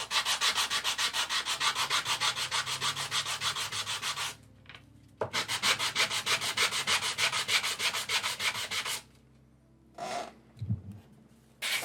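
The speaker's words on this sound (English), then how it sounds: "I'm gonna do some sanding" Loud rhythmic sanding with rapid back-and-forth scraping strokes, pausing briefly midway, then resuming before stopping; a few soft knocks follow.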